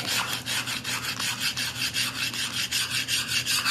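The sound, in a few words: chisel scraping and polishing tile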